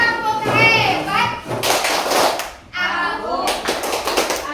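Children in an elementary classroom stand and do a rhythmic group clapping cheer, their voices chanting together between bursts of claps in a lively, fairly close room sound.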